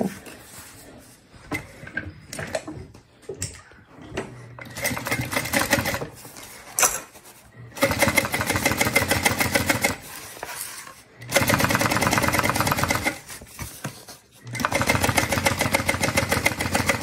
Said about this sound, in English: we're going to top stitch toward the bottom